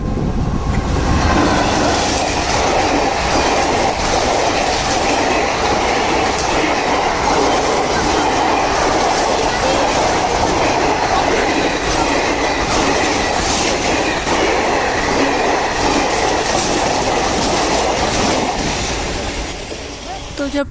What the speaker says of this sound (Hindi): ट्रेन आ गई, ट्रेन आ गई।